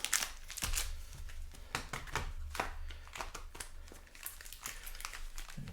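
Magic: The Gathering Time Spiral Remastered booster packs are shuffled by hand close up, giving a dense run of crinkly foil rustles and flapping slaps.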